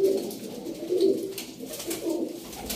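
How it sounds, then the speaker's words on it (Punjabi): Teddy pigeons in a loft coo repeatedly and close by, with several soft throaty coos spread across a few seconds under a light background murmur. "ਲਓ ਜੀ ਭਾਜੀ ਸਾਰਾ ਟੈਡੀ ਕਬੂਤਰ ਆ ਜੀ"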